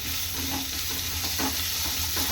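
Grated raw mango fries in oil with green chillies in a pan, making a dense steady sizzle under continual stirring and scraping, close up with no voices.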